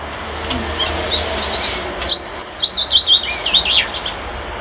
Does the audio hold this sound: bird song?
yes